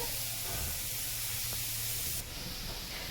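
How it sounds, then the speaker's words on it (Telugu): Onion pieces frying in a pan while a tamarind fish curry is made, giving a continuous loud hiss of oil that stays steady throughout, with no voices. "ఇప్పుడైతే ఇంకా ఇక్కడ ఆనియన్ ముక్కలైతే ఇంకా ఫ్రై చేద్దాము"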